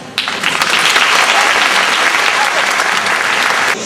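A theatre audience breaks into loud, dense applause that starts abruptly, holds steady for over three seconds of rapid overlapping claps, then cuts off, close and full.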